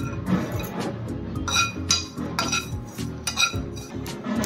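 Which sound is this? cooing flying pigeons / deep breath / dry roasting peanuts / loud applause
dry roasting peanuts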